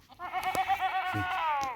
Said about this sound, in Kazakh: Мына 3 сауынды ешкі сатылады.